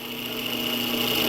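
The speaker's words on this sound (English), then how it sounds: "And I turn on my drill press and lower the dowel onto the chisel, taking off a very light little cut." A drill press spins a wooden dowel against a chisel, taking a very light cut. A steady, fairly quiet mechanical hum with a thin whine holds evenly throughout.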